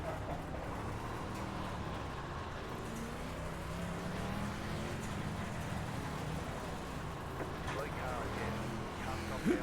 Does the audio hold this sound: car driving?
yes